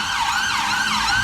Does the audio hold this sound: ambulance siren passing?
yes